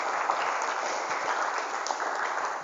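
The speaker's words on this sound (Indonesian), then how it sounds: "Tepuk tangan untuk kita semuanya." A school audience at an Islamic high school anti-bullying seminar bursts into brief, dense applause, a loud continuous rush of many hands clapping close by with no talking over it.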